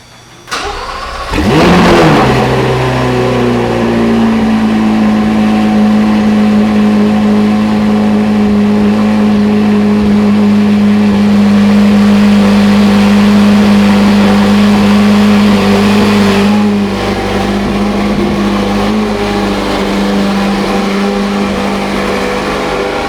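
A C8 Corvette Z06 engine fires up with a loud burst, then settles into a steady, throaty idle held close by for the rest of the time, with no talking.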